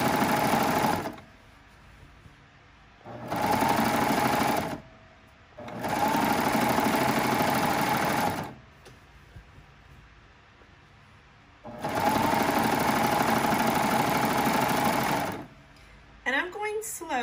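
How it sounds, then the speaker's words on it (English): A serger sewing machine stitches thick jelly roll quilt texture at a little below medium speed, whirring loudly in several long runs separated by pauses, with a person talking between the bursts. "I have a variable speed control in my serger, and I have it set to kind of a little less than the medium setting"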